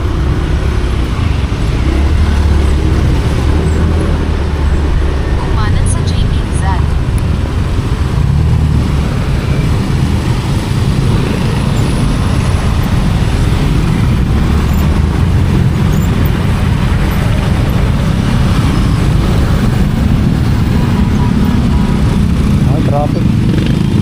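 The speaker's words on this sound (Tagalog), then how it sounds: "Traffic." Steady road traffic on a ride to a pickup point, a continuous low rumble of cars, motorcycles and buses at close range lasting throughout, with occasional voices over it.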